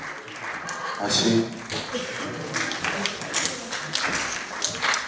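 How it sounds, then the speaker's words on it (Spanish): Sparse, uneven clapping from a small stand-up comedy audience, individual claps and taps rising and falling under a talking host. "A ver, ahora démosle un aplauso por su misma energía."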